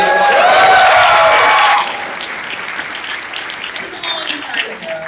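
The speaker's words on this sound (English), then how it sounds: "You're allowed to cheer for that." Audience cheering and applause at a Pax East convention panel for The Walking Dead game, a loud dense wash of clapping and whoops that drops to a lighter, sustained patter after a couple of seconds.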